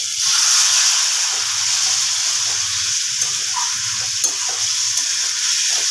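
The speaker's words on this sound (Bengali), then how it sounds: "দিয়ে দেবো অল্প একটুখানি গরম জল" Hot water hits a pan of fried potato and pointed gourd curry, bringing a loud, continuous hiss and sizzle with faint stirring underneath, steady from start to finish.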